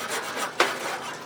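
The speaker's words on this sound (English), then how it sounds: "So yeah, I did have to scrub" Scrubbing pad rubbing grill grease off with Kona cleaner, a steady, close abrasive rasp lasting over a second with one brief louder scrape midway, no voices.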